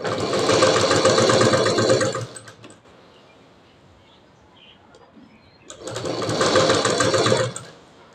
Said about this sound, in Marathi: त्याच्यासाठी 1/2 इंचच आपल्याला टिप मारायची आहे.